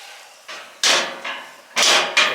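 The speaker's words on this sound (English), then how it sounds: "So let's close the door." The door of a Char-Broil grill cart swings shut in a few separate clunks and knocks, loud and close, each followed by a short rattling decay.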